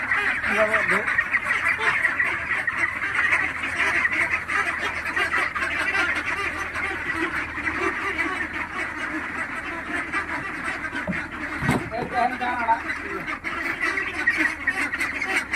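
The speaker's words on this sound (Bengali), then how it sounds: "হাঁসের দিয়ে দেখেন খিদা লাগছে, একটু পাগলামি করতেছে" Many hungry 46-day-old ducklings quack continuously in a noisy, agitated chorus, close by, with a person's voice now and then under the flock.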